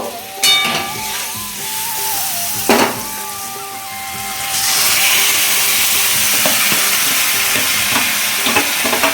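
Soybean and tomato paste is added to a hot frying pan with a couple of sharp utensil clanks, and then a loud, continuous sizzle and stir noise builds up and holds.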